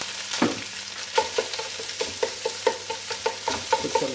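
Eggs frying in a pan with carrots for a basic egg fried rice, giving a steady sizzle broken by repeated stirring and scraping clacks at an irregular rhythm, close up and moderately loud with no talking.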